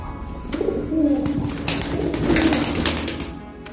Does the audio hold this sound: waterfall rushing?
no